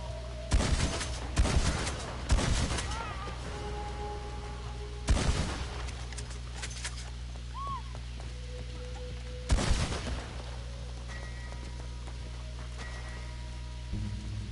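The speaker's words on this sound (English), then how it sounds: "they got a good few shots on us" Gunfire from police in an online Red Dead game on PlayStation 4: several sharp bursts of shots, a quick cluster early and then isolated volleys spaced seconds apart, over quiet in-game ambience.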